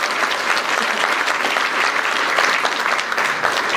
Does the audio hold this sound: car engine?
no